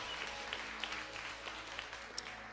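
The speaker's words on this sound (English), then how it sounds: "Clap. We clap." A church congregation claps during the offering, a faint, fairly distant patter of hands with a few sharper claps standing out and a low background hum.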